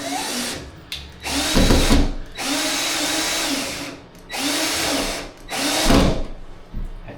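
Cordless drill with a weakening battery driving screws while a towel bar is installed, giving several loud whirring bursts that start and stop, each run sounding strained and uneven, close up with no talk.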